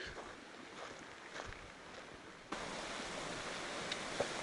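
West Tennessee Creek flows beneath a bridge on the Colorado Trail, a soft, steady rushing hiss that swells noticeably louder partway through.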